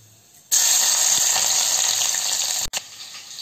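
Crushed garlic hits a hot pan and sizzles at once, a loud, steady hiss that runs for about two seconds, cuts off briefly, then settles into a softer sizzle.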